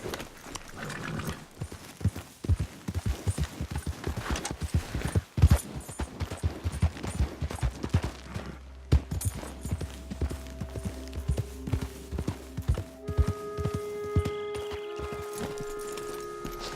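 Horse hooves in the Red Dead Redemption 2 video game, a rapid trotting clip-clop up close that slows and fades about halfway through, giving way to sustained musical tones.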